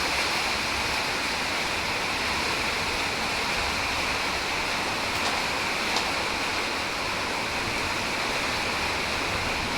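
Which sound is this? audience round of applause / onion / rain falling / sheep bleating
rain falling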